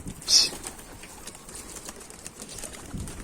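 A Bango pigeon takes off with a brief, close burst of wing flapping near the start, then fainter rustling and movement in an outdoor setting.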